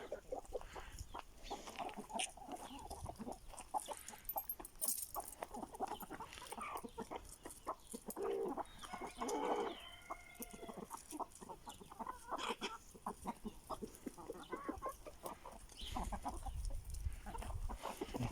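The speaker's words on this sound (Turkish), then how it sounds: "Tavuklarımız bayram ediyor" Chickens cluck and murmur steadily in the background, with occasional louder squawks, in an outdoor farmyard setting.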